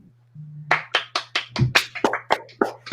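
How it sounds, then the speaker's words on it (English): Scattered audience clapping at a comedy stage show as the cast is introduced, about a dozen distinct, close, sharp claps in an uneven rhythm following a brief low hum, with no crowd roar behind them. "You don't have to clap."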